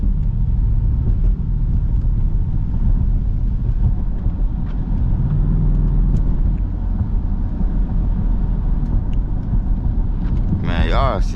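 Steady low road rumble and broadband tire and wind roar fill the cabin of an SRT Jeep cruising in light rain, continuous and loud throughout, with a brief higher chirp near the end.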